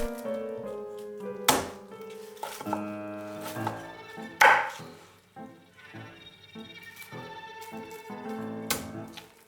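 A knife chops fried chicken into chunks on a board, a few distinct close thunks spaced irregularly, with a faint musical backing underneath.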